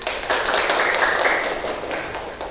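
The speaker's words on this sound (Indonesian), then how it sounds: "Silakan diberi tepuk tangan" Applause for a student group after its presentation, a short, lively round of many hands clapping close by that swells quickly and then fades slightly.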